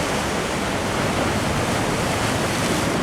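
Large waves crash and churn on Hawaii's North Shore in a dense, continuous roar of moving water, loud and close with no voices.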